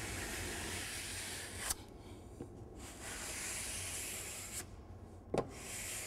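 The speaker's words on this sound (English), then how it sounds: "just take something like a square, a nice flat surface, and just run it along" A square is rubbed along freshly glued wood veneer on a cabinet side, giving a continuous close, soft scraping hiss with a few sharp knocks as the tool is repositioned.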